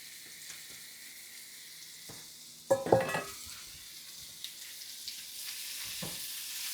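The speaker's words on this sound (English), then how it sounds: "I'm going to throw in the mushrooms now." Mushrooms dropped into a pan at medium heat after garlic and aromatics are removed, a sudden loud sizzle with spoon clatter, then quieter crackling and occasional stirring knocks as the frying settles, with no talking.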